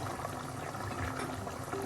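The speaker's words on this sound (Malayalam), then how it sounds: "മീനെല്ലാം നല്ലതുപോലെ തിളയ്ക്കുന്നുണ്ട്" Naden Para fish curry simmers in a lidded pot on the stove, a continuous dense bubbling hiss that stays steady and close, alone without any voices.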